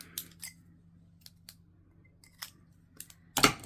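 Scissors make one sharp, close snip through linen thread for a Christmas craft, preceded by a few soft, scattered handling clicks in a quiet room.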